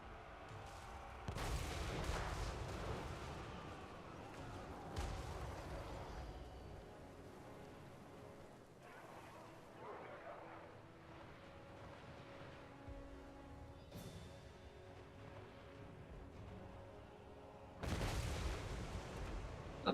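Mortar fire in Total War Warhammer III, set in a World War One battle with dinosaurs: a series of deep, distant booming blasts recurring every few seconds over a steady rumbling battlefield bed.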